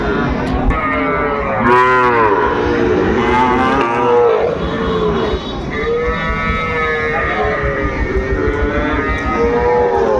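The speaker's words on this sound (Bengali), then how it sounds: "মমিনুল ভাই কাল একটু দেখান তো একটু গরুগুলো আমরা একটু দেখি" Sahiwal cattle at a Faridpur farm give several long, loud moos one after another, close by, with a low hum running steadily underneath.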